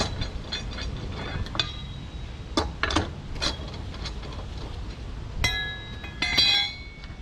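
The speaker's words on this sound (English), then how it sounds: "I take my lug nuts, put them to the side." Metal lug nuts taken off a 2016 fourth-generation car's rear wheel clink together faintly in a handful of light, sharp taps over a low background rumble.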